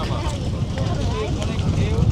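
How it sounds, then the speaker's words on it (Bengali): Strong wind blows over a river, buffeting the microphone as a steady low roar with gusty rumbles, close and loud throughout. "আজকে অনেক বাতাস এই নদীতে ঢেউ অনেক"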